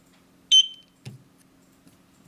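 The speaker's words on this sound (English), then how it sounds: "Press the sync button until you hear the beep." A eufyCam security camera gives one short, high, clear beep after its sync button is pressed, followed by a soft click of handling in a quiet room.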